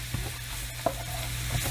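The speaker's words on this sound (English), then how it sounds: "we are going to mix these vegetables around" Vegetables sizzling in a pan while being stirred, a steady hiss with a low hum beneath and a couple of soft scrapes, with no talking.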